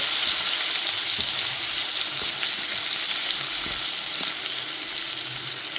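Chopped onion frying in a pan over a gas flame for a thin fish curry, a steady, close, loud sizzle with faint crackles and pops throughout, no voices.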